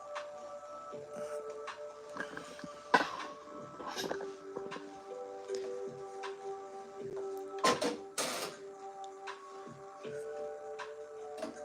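An embroidery machine stitches a patch, giving steady mechanical whirring with tonal hum and repeated clicks and thumps at close range, with no talking.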